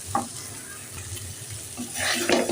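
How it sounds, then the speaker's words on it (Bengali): Spiced masala for chickpeas stirred and fried in a pan with a splash of water, giving a soft continuous sizzle with scraping strokes that grow louder toward the end. "আমি নাড়াচাড়া করে হালকা একটু পানি দিয়ে দিলাম মশলাটা সিদ্ধ আর একটু ভেজে তারপরে নামিয়ে নেব।"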